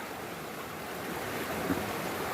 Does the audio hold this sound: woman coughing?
no